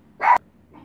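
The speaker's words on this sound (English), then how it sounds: "I think the dog's barking because it's New Year's Eve" A dog indoors on New Year's Eve gives one sharp, loud bark close by, followed by a faint, softer second yip trailing off.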